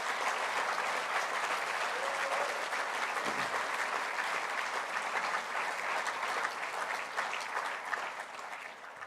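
A large crowd at an EcoCAR EV Challenge awards ceremony claps in a dense, sustained round of applause that tapers slightly toward the end, with no talking over it.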